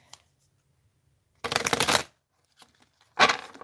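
Tarot cards being shuffled by hand, two separate bursts of crisp riffling and flapping paper, close and fairly loud, with quiet gaps and faint handling clicks between them.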